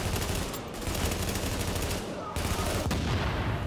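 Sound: explosion in The Division video game

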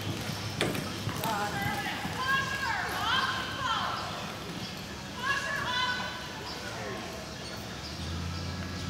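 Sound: horse hooves walking

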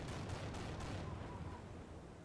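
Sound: Panther tank firing its gun, from a video game

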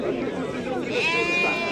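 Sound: sheep bleating at a livestock market

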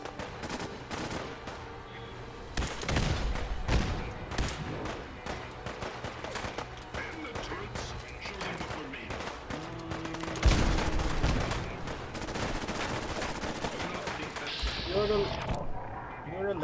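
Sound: ship cannons firing in video game

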